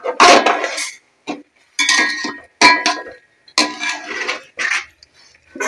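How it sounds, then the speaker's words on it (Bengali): A metal lid is lifted off a pot of half-cooked biryani rice, giving a run of close, bright clinks and clatters in short separate bursts with quiet gaps between them. "ঢাকনটা খুলে নেব।"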